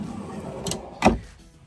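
Two short sliding thumps up close, a drawer on a 2023 Tiara Yachts 49 Coupe running on its track and then bumping shut, against a quiet room hum.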